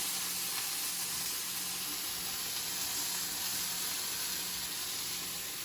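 About a teaspoon of butter sizzles in a pan beside a nearly cooked steak, making a soft, even hiss that stays steady from start to finish.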